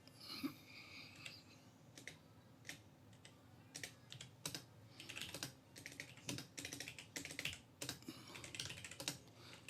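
Fingers tap quickly on a computer keyboard, a quiet, uneven run of close clicks and keystrokes in bursts with short pauses between them.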